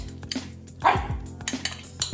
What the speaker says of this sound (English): you have to excuse the barking